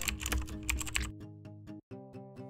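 Someone types a code on a computer keyboard in quick, close clicking keystrokes, a dense flurry at first that thins into separate taps, with no talking.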